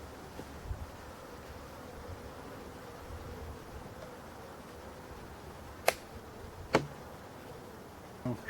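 Honeybees fly in front of a forest hive in November, giving a soft, steady, low hum throughout with a few sharp clicks and taps close by.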